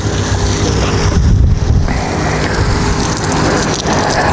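A backpack sprayer's hand spray boom running at full pressure, setting number 5, gives a steady, loud broadband hiss of spray throughout, close to the microphone, with a brief dip in the middle and no talking.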